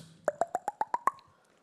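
A voice mimics a gas bottle being uncapped with a rapid series of seven hollow plopping pops. The pitch rises steadily from pop to pop, and each sound is close and distinct with no other noise behind it.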